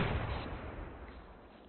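Distant gunfire during platoon field training: a far-off report whose low rumble fades away over a second or two, with no voices.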